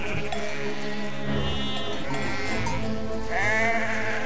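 Several sheep bleat in the video game Valiant Hearts: The Great War, wavering cries rising over a steady game soundtrack, with one loud bleat near the start and another near the end.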